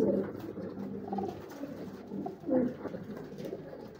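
Soft, low pigeon coos repeat at an easy pace, close by, with faint rustling and background noise between the calls.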